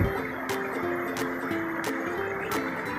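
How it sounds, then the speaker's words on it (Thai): Water in a forest stream flows with a steady, close rushing and trickling, joined by a few sharp periodic clicks and a faint tonal hum, with no voices. "ลำธารลำน้ำที่ว่าไหลอยู่นะคะ"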